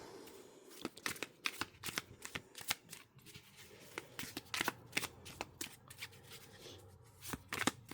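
Tarot cards are shuffled close up in a steady run of crisp riffles and flutters that continue without pause, with no talk over them.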